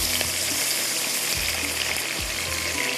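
Small pieces of potato frying in hot oil over high heat, a steady close sizzle and crackle running throughout with a few soft stirring bumps and no voices.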